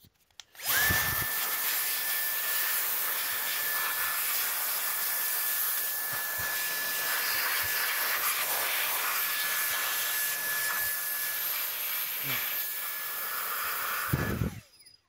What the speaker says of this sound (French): tu peux attraper ton petit ventilo